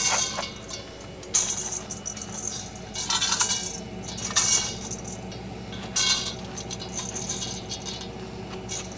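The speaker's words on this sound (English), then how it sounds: "So you can see Tamara's filling up those feed pans" Feed pans are filled for kudu at a zoo, with irregular bursts of rattling, pattering feed pouring into metal pans against a steady low background hum, and no voices.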